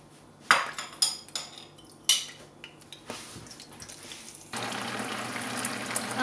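Cornstarch, chili sauce, tomato ketchup and sriracha are mixed in a bowl for sweet and sour tofu, heard as a few sharp utensil clinks against the bowl, then a steady hiss of frying or running water.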